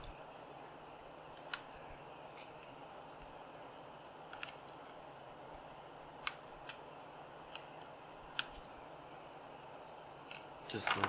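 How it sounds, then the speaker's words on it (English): Small cutters snip resistor leads off a tube amp kit driver circuit board, a few faint sharp clicks spaced several seconds apart in a quiet room, with a small clatter near the end. "cut these leads off."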